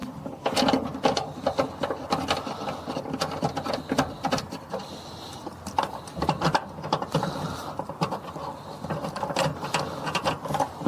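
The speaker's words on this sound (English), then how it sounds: "Little screws. Tighten these in." Small screws are tightened by hand to mount new speakers inside a Nissan Juke, giving a close, busy run of ratcheting clicks and mechanical whirring that rises and falls in bursts, with no voices.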